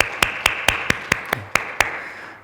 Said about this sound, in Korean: 우리 환영의 박수 하시겠습니다.